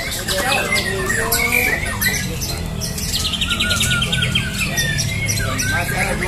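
An oriental magpie-robin at a songbird contest sings loud, varied whistles, trills and squawky phrases in rapid succession, close by, over a low background murmur.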